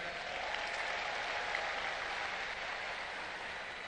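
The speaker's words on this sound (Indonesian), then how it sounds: "boleh beri tepuk tangan kepada mereka" Sustained applause from a large crowd at a political party anniversary speech, a continuous, even roar of clapping heard from some distance without letting up.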